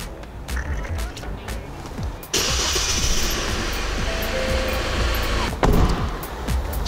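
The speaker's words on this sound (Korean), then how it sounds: "이제 시동을 걸어보겠습니다" A diesel car engine starting. Quiet clicks and a brief crank give way to a sudden catch into a loud, steady, rough idle, with a sharp knock near the end.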